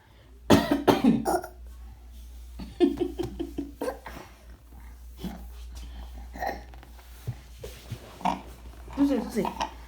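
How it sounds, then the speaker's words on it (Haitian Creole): A baby who has been sick for a week coughs in repeated bursts, close to the microphone, while adults talk and coo around the child. "Tousse."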